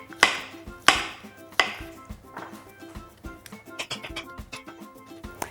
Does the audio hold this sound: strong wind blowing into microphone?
no